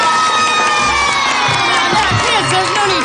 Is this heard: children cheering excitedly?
yes